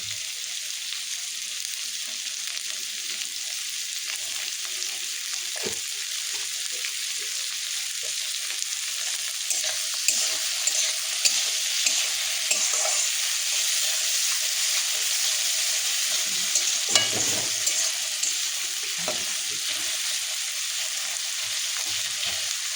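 Onions frying in oil for a mutton curry make a constant soft hiss, with faint scattered pops and a few stirring clicks over roughly twenty seconds.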